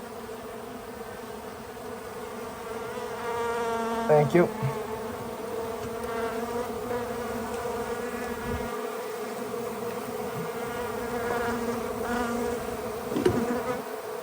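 Honeybees buzzing during a live hive rescue in Kaneohe, Hawaii, a dense droning swarm hum close to the listener with individual bees flying past, while a voice speaks briefly.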